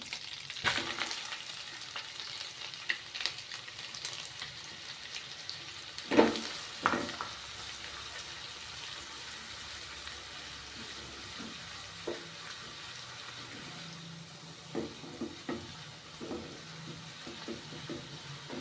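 Chopped onions for paneer bhurji hit a hot pan and sizzle steadily, with a sharp burst as they go in, then occasional stirring clatters. Close and clear, with no speech.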